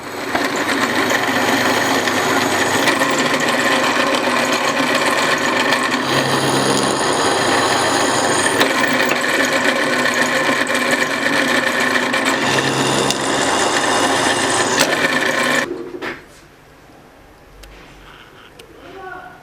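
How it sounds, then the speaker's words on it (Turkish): A loud, steady mechanical whine of a drill boring holes into a steel knife blade, running continuously for about fifteen seconds before stopping abruptly, leaving quiet background. "Şimdi deliklerine delmeye geçelim."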